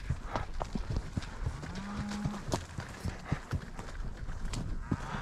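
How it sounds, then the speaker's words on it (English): A small bunch of cattle being driven through a canyon on a ranch, with scattered hoof clops, shuffling and a brief low moo amid steady outdoor rustle. "Got this little bunch of cattle, and we're picking up some more"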